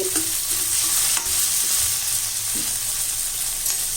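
Garlic, onion and tomato sautéing in a pan, a continuous bright sizzle with scraping stirs throughout, close and fairly loud, with no voices.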